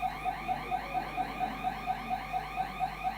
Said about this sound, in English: had the fire alarm go off